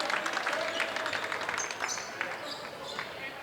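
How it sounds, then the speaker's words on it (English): Crowd noise from a high school varsity boys basketball game, Schaumburg vs. Conant, with a steady roar of cheering and scattered applause in a gym, a few ball bounces mixed in and commentary talk running over it. "Heard a little bit of an extra cheer from the crowd there with Much coming into the ball game."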